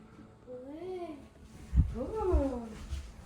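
Cat meowing indoors, two drawn-out, rising-and-falling meows, the second louder and longer, with soft background noise and a faint thump between them.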